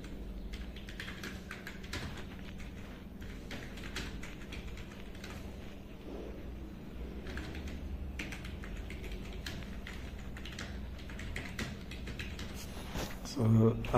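Rapid, irregular clicks of a computer keyboard being typed on in a quiet room while a blog copyright complaint is written, with a low steady hum beneath and a brief louder knock at the very end.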